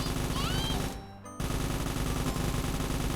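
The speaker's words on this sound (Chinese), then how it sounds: "接下来我们给女仆试验一下 M134 加特林机枪吧。" An M134 Gatling machine gun firing in a Minecraft mod game, a dense continuous rattling roar that cuts out briefly and then resumes at full loudness.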